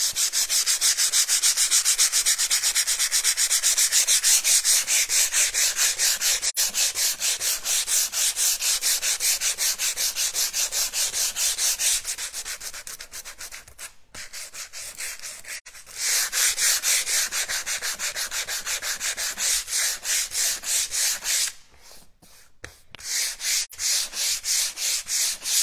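Hand sanding of a painted surface with 80 grit sandpaper under light pressure, a steady close-up scratchy rubbing with rhythmic strokes, briefly pausing twice, no talking.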